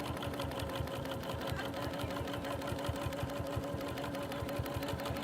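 Sewing machine running steadily while free-motion quilting, a fast even needle rhythm that holds close and continuous without pause.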